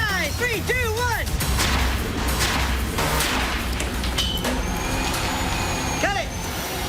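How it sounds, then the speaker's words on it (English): A lawnmower blade breaks off the motor during a rock-dropping test, a loud, harsh roar of engine noise with whistling tones and heavy clattering bursts that stay dense and close throughout. "that was the sound of the blade coming off of the motor"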